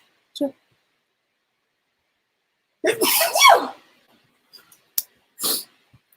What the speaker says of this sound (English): Oh no, I'm gonna sneeze.